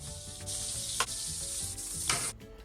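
Pork sizzles steadily in a pan, a constant close frying hiss with a couple of brief clinks or scrapes, no voices.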